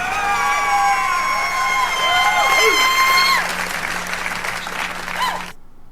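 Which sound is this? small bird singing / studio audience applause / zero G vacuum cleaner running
studio audience applause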